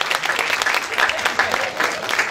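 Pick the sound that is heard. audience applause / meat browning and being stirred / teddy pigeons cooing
audience applause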